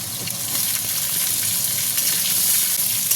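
Cut mango pieces hit hot oil with popping mustard seeds for a matar dal, setting off a loud, steady hiss of sizzling that holds throughout.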